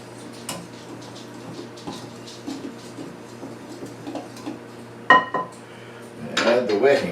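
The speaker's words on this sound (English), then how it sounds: "I think I would just sort of mix those in a bit." Flour, salt and yeast stirred together in a bowl, soft scraping and intermittent clinks of a utensil against the bowl, with a louder knock near the end and a low steady hum underneath.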